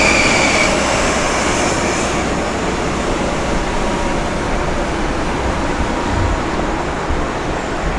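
A loud, continuous roar of a Long Island Rail Road M9 commuter electric train rushing past close by, with rattling wheels and a brief high squeal early on.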